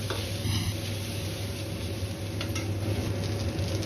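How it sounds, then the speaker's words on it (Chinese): King oyster mushrooms and diced chicken stir-fried in a wok with a little oil and minced scallion, ginger and garlic, giving a steady close sizzle with light scraping and tossing sounds and no talk. "杏鲍菇和雞丁炒制"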